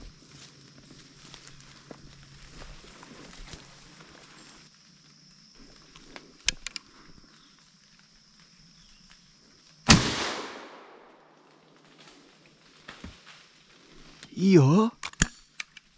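A 16 gauge single-shot shotgun fires once while squirrel hunting in the woods. The sharp, loud blast trails off with a rolling echo after quiet rustling, and a voice is heard briefly afterward.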